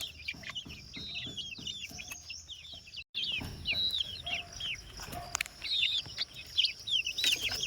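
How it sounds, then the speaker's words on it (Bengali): Young chicks peep and cheep in quick repeated calls at close range, with a brief gap of near silence midway before the steady chirping resumes. "19টা এখানে মুরগির বাচ্চা রয়েছে।"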